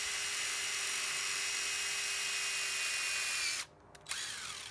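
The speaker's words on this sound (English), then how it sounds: "I'm gonna put a self-tapping screw in right there." Power drill driving a self-tapping screw into a mount on a 2018 Jeep JL, a loud steady whine that cuts off abruptly, followed by a brief ratcheting burst, close and without talk.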